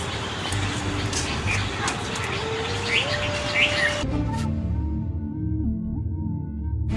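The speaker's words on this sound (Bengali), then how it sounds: "পাখি মনে হয় ওইদিকে আছে, দেখা যাচ্ছে। হ্যাঁ হ্যাঁ, কান পাতে তো শুনেছি, ডাকিচ্ছে।" Birds call across the Chalan Beel wetland, with scattered short chirps over a dense, noisy background that abruptly drops to a quieter, steadier hum halfway through.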